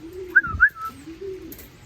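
A pigeon coos nearby in a short, low burbling call, followed by a soft second coo.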